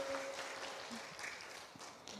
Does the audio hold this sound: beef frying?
no